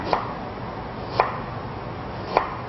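A knife cuts galangal into rounds for Thai soup, three crisp chopping knocks on a board spaced about a second apart, close and clear against a quiet background.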